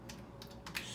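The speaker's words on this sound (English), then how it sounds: "we are going to type in" Keys tapped on a computer keyboard while entering an account profile name for a TV streaming service, a quick run of soft close clicks in an otherwise quiet setting.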